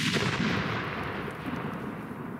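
A firecracker bursts inside an apple with one loud blast, followed by a rumbling echo that slowly decays over the next two seconds.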